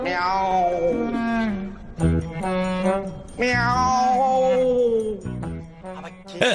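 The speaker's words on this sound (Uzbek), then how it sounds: "Mushuk ekan." A cat inside a building gives several drawn-out, wailing meows with sliding pitch. The calls are close and fairly loud, with short breaks between them.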